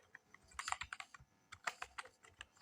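Code being typed on a computer keyboard in two quick bursts of clicky keystrokes, uneven in rhythm and fairly close, with a short pause between and no talking.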